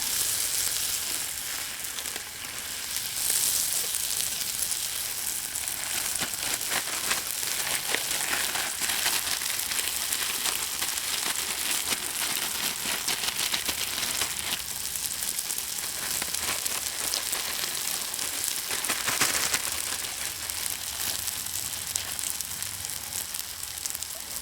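Venison sizzles loudly and steadily in a hot pan, a dense crackling hiss that continues unbroken with occasional louder spatters.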